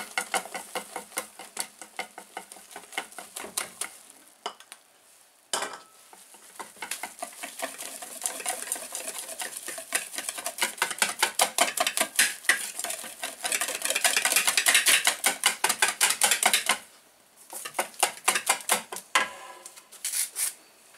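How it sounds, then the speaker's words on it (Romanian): A spoon stirring flour into a chicken pie filling in a bowl, a rapid run of close scraping and tapping strokes that speed up and grow louder, with brief pauses between bursts. "Și amestecăm."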